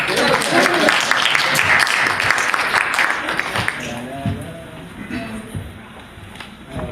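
Audience applause at an open forum and panel event on the Congo crisis, a dense burst of clapping that is loud at first, then thins and fades as voices take over.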